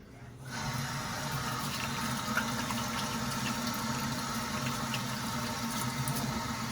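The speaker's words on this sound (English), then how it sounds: "wash my hands" Water pours from a tap as hands are washed, a steady close rush that starts abruptly and runs evenly to the end, with no one talking.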